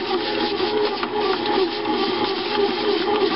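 A Hamilton Beach Home Baker bread machine kneading sticky peanut butter bread dough, a continuous close rubbing, whirring churn with a steady mechanical hum and no pauses.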